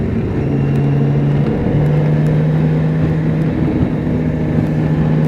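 A BMW K1600 GT touring motorcycle cruises smoothly along a winding Black Forest road, its six-cylinder engine giving a constant, even drone mixed with wind rush, with no voices.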